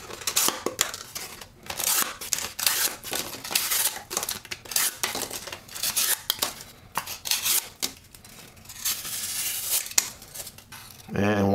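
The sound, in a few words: Spyderco Manix 2 knife cutting Huggies diaper box cardboard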